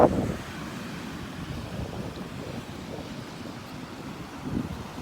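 Waves at a beach where the tide lines meet, heard as a steady low wash with breeze buffeting the microphone, and a slightly louder surge near the end.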